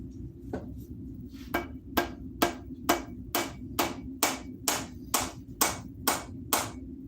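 Axe chopping into a log: about a dozen sharp, evenly spaced strikes at roughly two per second, over a steady low hum, with each blow ringing briefly, with no talking.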